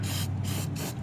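Aerosol spray hissing onto the tire and brake area of a 2017 Toyota Prius, three close bursts with brief pauses, over a steady low hum, no talking.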